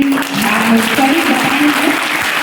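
An audience at a traditional folk dance and folk song workshop applauds in steady, continuous clapping while a voice talks over it.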